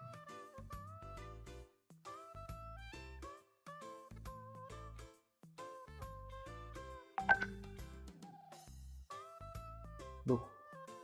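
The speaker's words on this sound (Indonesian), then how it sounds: "Duh, ada telepon lagi dong." Phone ringtone sounding for an incoming call indoors at home, a repeating melodic electronic pattern of short tones in bursts with brief gaps, fairly soft and steady.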